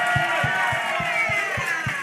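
A community outreach event crowd roars with cheering and applause, a steady wash of noise over regular low thumps that pulse about three or four times a second.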